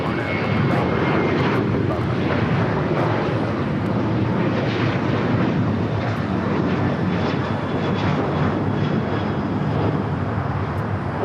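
A jet airliner takes off from runway 25 right at LAX, a powerful sustained engine roar with wind buffeting, loud and continuous, with a voice talking faintly beneath it.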